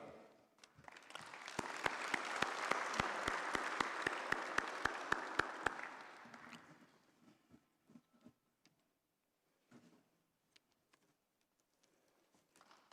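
An audience at the official opening of SADC Industrialization Week in Zimbabwe applauds the foreign affairs minister. Dense clapping swells and holds for about six seconds, then fades to a few scattered claps and quiet room sounds.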